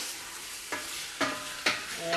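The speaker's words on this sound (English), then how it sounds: "And you keep stirring the onion and the meat until the colors start changing a little bit at the surface of the" Onion and meat frying in a pot are stirred with a spoon, giving a steady sizzle broken by three distinct scraping strokes at regular intervals, close and fairly loud.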